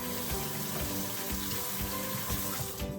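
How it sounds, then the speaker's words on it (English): Vegetables rinsed under a running kitchen tap, a steady continuous splash of water into a sink, fairly close and unbroken, with no talking. "I'm going to rinse that off"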